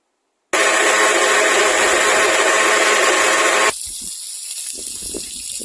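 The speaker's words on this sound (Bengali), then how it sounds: "এবার মিক্সিতে বাটনাটা বাটবো, তারপর রান্না করব" An electric mixer grinder grinding spice paste starts abruptly with a loud, harsh whirring roar, then drops to a lower, thinner running tone partway through as the load changes.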